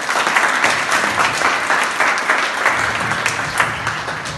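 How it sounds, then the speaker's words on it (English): An audience at a church healing meeting in Warwick, UK, gives a loud, sustained round of applause, dense steady clapping close by throughout with no speech over it. "Let's give her a clap, shall we?"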